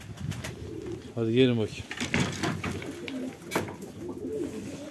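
Pigeons coo in a loft, with one clear, close, throaty coo standing out among faint rustling and fluttering, while someone talks briefly.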